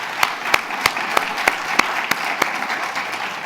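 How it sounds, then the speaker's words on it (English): An audience applauds a high school Junior ROTC group at a city's State of the City address, with a bed of many hands clapping and distinct sharp claps standing out in an even rhythm near the microphone. "Let's give them a round of applause."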